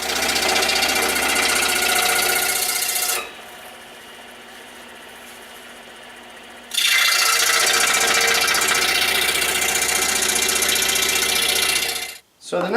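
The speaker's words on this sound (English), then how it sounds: "I'm going to take them over to the scroll saw" Scroll saw buzzing steadily as it cuts wooden triangles, with a loud rapid reciprocating whir that pauses for a few seconds, then resumes before stopping briefly near the end.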